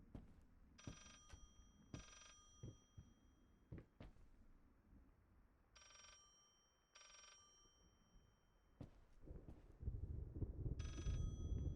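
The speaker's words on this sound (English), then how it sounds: "I need to go where the ringing sound is strong." A telephone rings inside the horror video game Layers of Fear, repeated bursts of a bright bell ring spaced a second or so apart over low ambient rumble, getting louder toward the end.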